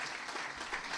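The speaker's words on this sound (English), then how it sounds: "I want to ask everybody to give each other a round of applause" Applause from attendees at a chamber of commerce breakfast meeting, a brief dense burst of many hands clapping in a room, fairly steady and moderately close.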